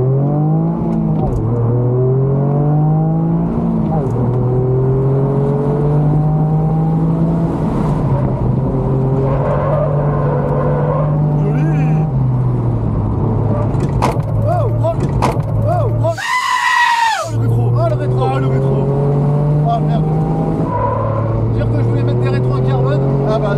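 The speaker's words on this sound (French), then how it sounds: "Là, c'est de la voiture de course." Several racing cars roar and rise in pitch as they accelerate and pass at a car show, a loud continuous drone with revving sweeps, people talking faintly beneath.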